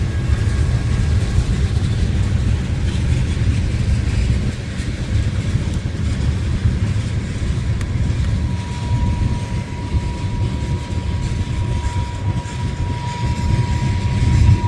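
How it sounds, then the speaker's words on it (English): A low, steady rumble of a train rolling by on nearby downtown Galesburg railroad tracks, continuous throughout with a faint high whine above it. "I think there's another train coming."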